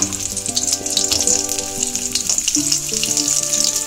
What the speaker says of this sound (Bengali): তো আমি তেলের মধ্যে এক এক করে সজনে ডাঁটা দিলাম